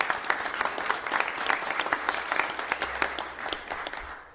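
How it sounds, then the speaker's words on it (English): People at a county board of supervisors meeting give warm, sustained applause, with many crisp claps overlapping before it fades at the end. "And let's give Melissa, please raise your hand, and let's give her applause."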